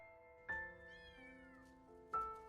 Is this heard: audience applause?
no